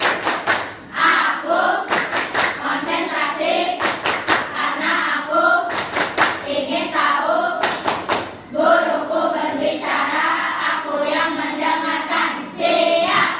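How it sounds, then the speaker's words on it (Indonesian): A class of children performs a rhythmic concentration clap, clusters of sharp group claps interleaved with chanted voices in a repeating pattern, loud and near. "Baik, yang tepuk konsentrasi."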